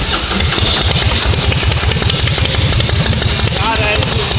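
Harley-Davidson engine swapped into a mini truck, running with a fast, lumpy pulsing idle that stays loud and close throughout, with a brief voice over the rumble.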